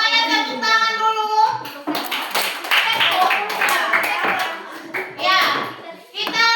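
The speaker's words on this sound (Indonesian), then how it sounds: "Semuanya tepuk tangan dulu." Schoolchildren in a classroom clap together in a burst of quick, close hand claps, mixed with children's voices talking and calling out throughout.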